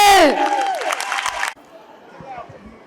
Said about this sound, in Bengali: স্যারের জন্য আরেকটু সর্বোচ্চ ভালো তালি হবে।